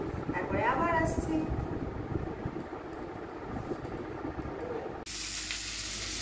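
An egg frying in a pan, a continuous crackling sizzle under a voice speaking early on, steady at moderate level before an abrupt cut to a brighter hiss near the end.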